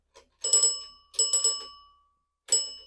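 A 120-year-old mechanical door bell, turned by hand, rings out in bright metallic bursts: a quick double ring, another rattling ring, then a single ring, each decaying into silence.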